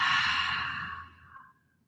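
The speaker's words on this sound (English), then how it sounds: "Open your mouth wide and exhale." A single long open-mouthed exhale during a vinyasa yoga flow, close and breathy, fading away over about a second and a half.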